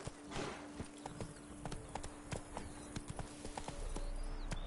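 Horse hooves clip-clopping in a steady galloping rhythm as Roach runs in the video game Witcher 3, close and clear over a low ambient backdrop.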